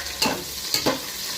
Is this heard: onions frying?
yes